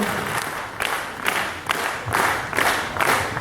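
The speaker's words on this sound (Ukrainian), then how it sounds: "Ще раз, друзі, ваші аплодисменти." An audience at an award ceremony claps steadily with a dense, sustained patter of many hands that swells in rhythmic waves, loud and close, with no talk over it.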